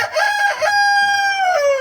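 A rooster crows loudly and close by at a backyard poultry waterer, a long drawn-out call following a few short clucks.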